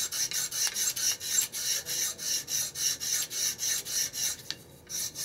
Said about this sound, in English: file down the ferrule and make sure that it's flat